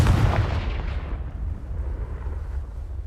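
A Confringo blasting spell from Hogwarts Legacy bursts loudly in a deep, booming explosion that rumbles and slowly fades over a few seconds, with no talk.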